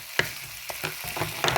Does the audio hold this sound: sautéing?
yes